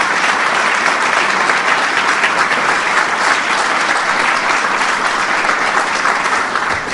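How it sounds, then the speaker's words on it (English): Loud, continuous applause from a large audience at a White House event honoring American Muslims, thick and unbroken from start to finish. "Give them a big round of applause."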